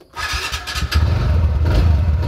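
A motorcycle left unridden for many days is started: a short cranking stutter, then the engine catches and settles into a loud, close, steady idle.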